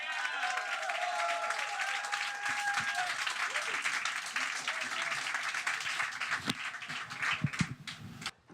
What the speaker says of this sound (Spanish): Por favor, recibamos con un fuertísimo aplauso a Tony Earl.